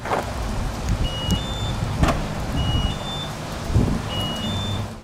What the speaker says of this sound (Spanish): Hace 3 tonos extraños y cierra el coche después del primero y antes del segundo.